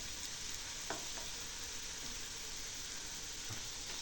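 Bread gulab jamun balls frying in hot oil on a low flame while being stirred: a steady, quiet sizzle runs throughout, with a few soft scraping taps from the stirring.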